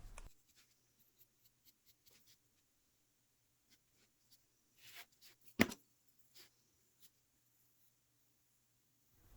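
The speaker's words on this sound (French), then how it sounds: "J'appuie fort pour noircir la pupille et souligne ensuite les contours." A mechanical pencil presses hard on paper while darkening the pupil of a drawn eye, giving faint, intermittent scratchy strokes with a few louder taps, quiet and close.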